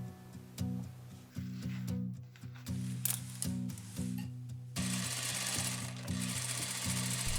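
A sewing machine stitching the back seam of Regency stays in fabric, running in rhythmic mechanical bursts with brief stops, close and fairly loud.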